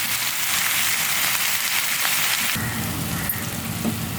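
Onions sizzling in hot oil while being fried for lemon rice, a steady dense crackling hiss that stays loud and close throughout, shifting slightly in tone partway through as the pan is stirred.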